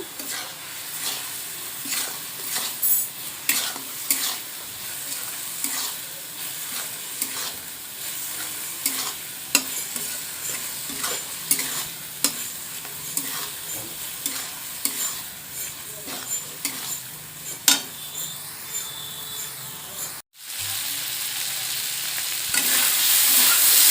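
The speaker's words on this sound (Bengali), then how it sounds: "আর দেব মশলা। খুব ভালোভাবে একসঙ্গে কষিয়ে নেব।" Chicken mince with red chilli powder and spices is stir-fried in a pan over the heat as a stuffing for pointed gourd dolma. A steady close sizzle runs throughout, broken by frequent sharp spatula scrapes and taps. No one speaks.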